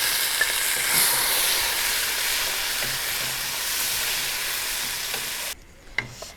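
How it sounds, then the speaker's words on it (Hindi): Onions, green chilies and tomatoes fry for chicken pulao, a loud, dense, steady sizzle with faint stirring scrapes that cuts off abruptly near the end, leaving a few quiet knocks. "टमाटर को हमने प्याज के साथ अच्छी तरह से भूनकर नरम कर देना है।"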